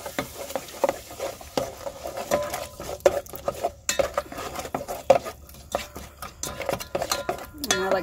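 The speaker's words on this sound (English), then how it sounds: "I like to stir it into the meat and get it in there pretty good" A utensil stirs meat in a pan inside a van on a rainy day, giving repeated scraping clinks and light clatters over a faint sizzle, close and irregular.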